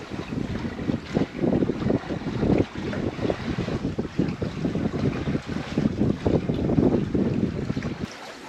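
Gusty wind buffets the microphone on a sailboat in rising and falling roars, with a steady rush of water along the hull beneath, no voices.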